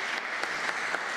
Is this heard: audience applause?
yes